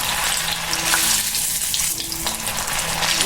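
Aloo poha cutlets frying in hot oil give off a continuous, dense sizzle and crackle that stays close and steady throughout, with no voices.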